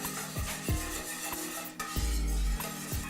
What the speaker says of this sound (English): you want to whisk it for like about 1 minute at least